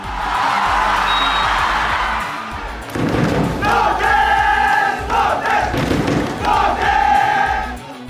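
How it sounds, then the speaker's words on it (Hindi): A large football crowd at a Bodoland cup match roars and chants, loud and continuous, with rhythmic rising chant phrases and cheering filling the stadium. "मैदान तालियों और नारों से गूंज उठता है"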